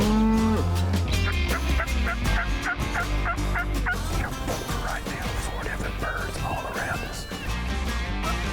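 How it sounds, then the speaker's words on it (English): Wild turkey gobbler in North Carolina gobbling loudly and repeatedly, the calls ringing out close over a busy outdoor background of other birds and sounds. "That gobbler gobbled his head off."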